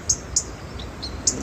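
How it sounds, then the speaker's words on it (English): Outdoor robin song on a late September day: a few short, bright chirping phrases spaced apart, moderately close, over a soft background hiss with no talking. "It's a robin."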